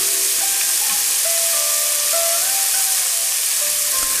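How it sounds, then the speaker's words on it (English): Stewing beef searing in a pot over sautéed onions gives a steady, fairly loud sizzle and hiss, with faint scraping from stirring and no voices. "We're just going to brown the beef up, give it a nice sear."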